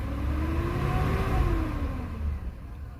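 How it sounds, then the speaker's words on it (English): A 2004 Chevrolet Avalanche engine revs up close, the note climbing steadily and then falling back toward idle, loud and alone without talk. "I'm going to rev her up a little bit."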